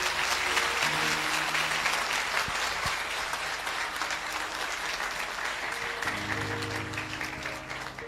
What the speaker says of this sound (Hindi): आइए प्रभु के लिए अच्छी ताली बजाएंगे मिलके।